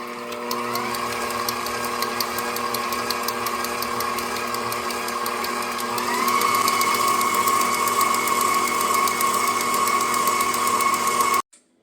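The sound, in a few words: mixing cream cheese and powdered sugar for Oreo pie filling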